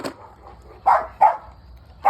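An American bully puppy about one year old barks three times in short, sharp bursts close by, spaced unevenly with quiet gaps between them and faint background noise.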